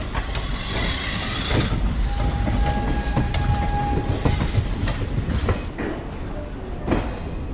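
Shaktipunj Express rumbling along in sleeper class, a steady loud rolling roar with rhythmic clickety-clack of wheels over rail joints, a faint whistle-like tone in the middle, no talk.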